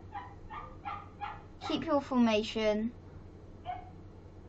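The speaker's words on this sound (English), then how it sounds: "And that's my dog." A dog barks indoors in a short burst of several barks and yips, fairly close and loud, while someone talks over a football video game's commentary.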